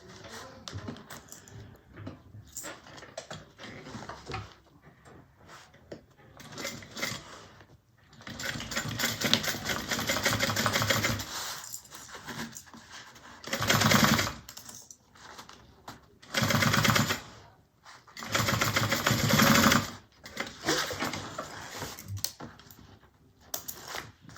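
A sewing machine bastes a zipper in place on a fabric bag. It runs in several stitching bursts of varying length, with quiet pauses and a few light taps in between.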